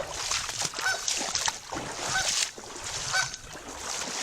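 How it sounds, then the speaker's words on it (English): Geese honking near the water at Donegal Springs in Lancaster County, Pennsylvania, a noisy flock giving repeated loud calls over a steady rushing background, with a mallard nearby. "I ran into a boatload of geese back there, and they're just, you know, they're just noisy creatures."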